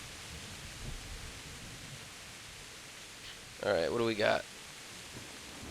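Steady rain hiss from a rainy scene in the video game Kingdom Come Deliverance 2, a continuous soft wash with a low rumble early on, broken by a brief burst of speech near the end.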